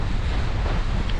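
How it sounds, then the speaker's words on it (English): Strong wind and surf on a cloudy, breezy beach, a steady broadband rush with heavy microphone buffeting throughout and no voices. "Oh, it's a breezy, cloudy day."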